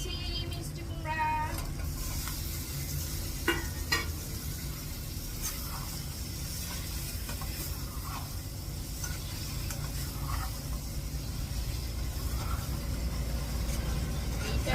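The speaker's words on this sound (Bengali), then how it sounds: "দিয়ে দিচ্ছি মিষ্টি কুমড়া" Pumpkin pieces sizzle and crackle steadily in a hot frying pan, with occasional scraping stirs, close and even in level throughout.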